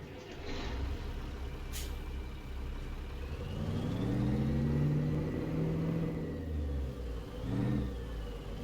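A Mack E7 diesel truck engine of roughly 460 to 465 horsepower, in a Mack F700, starts up and revs. A steady, loud rumble rises and falls through a couple of rev swells, with an air brake hiss near the start.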